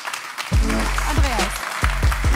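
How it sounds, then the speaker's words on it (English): An audience at an energy security conference applauds a speaker being introduced, a continuous patter of clapping beneath a loud nearby voice talking over it. "please give him a big round of applause"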